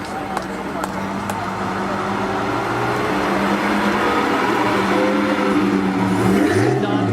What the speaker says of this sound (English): Next, 1938 Bugatti Type 57C Arabus drophead coupe with coachwork by Dunlop.